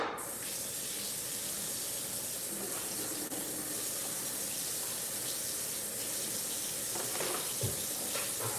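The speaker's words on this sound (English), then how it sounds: "I'm gonna give it another little rinse" Venison rinsed under a running kitchen tap, a steady broad rush of water splashing continuously into a sink with small shifts in the flow near the end, no talking.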